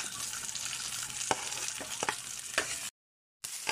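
Onion and chili frying in a pan give a bright, close sizzle broken by sharp spatula scrapes and taps, cutting briefly to silence near the end, with no speech.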